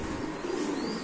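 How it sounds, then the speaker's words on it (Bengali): Danish pigeons coo in a low, continuous murmur among other pigeons at a bird market, with a steady flock hum throughout. "ডেনিশ কবুতর ডাকতেছে এখানে"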